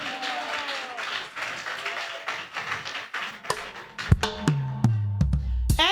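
A French-speaking church congregation applauds during worship, with rhythmic clapping that builds into loud, sharp group claps and crowd voices mixed in.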